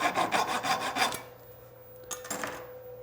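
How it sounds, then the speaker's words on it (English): Saw trimming excess off a wooden dowel, a quick run of short rasping strokes for about a second, then a quieter scrape and a couple more light strokes. "I'm going to go ahead and trim off just a little bit of the excess dowel"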